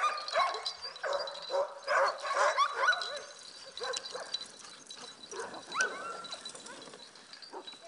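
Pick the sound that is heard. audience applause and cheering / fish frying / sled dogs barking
sled dogs barking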